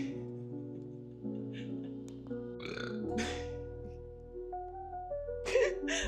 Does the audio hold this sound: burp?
yes